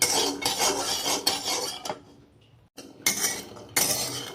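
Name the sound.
peanuts crackling while dry-roasting in a pan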